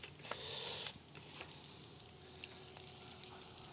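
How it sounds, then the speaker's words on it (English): Vegetables frying in oil give off a soft, steady sizzle and crackle at low volume, with faint clinks and stirring sounds from a restaurant kitchen. "don't fry it too fast because you want the vegetables to cook"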